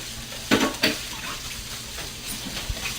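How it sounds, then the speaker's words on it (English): Onions brown in a Teflon pan with a soft, low sizzle, broken by a couple of sharp scrapes and knocks of a utensil against the pan near the start. "when you're browning onions, you have to make sure that all of the onions get brown"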